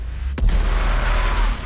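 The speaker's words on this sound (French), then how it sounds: "Explosion." An explosion in the Mass Effect 3 video game hits with a sharp, loud crack, then rolls into a sustained, deep rumbling roar that fills the short moment.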